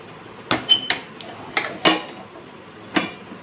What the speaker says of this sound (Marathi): पहा याच्यावर आपण आता झाकण टाकूया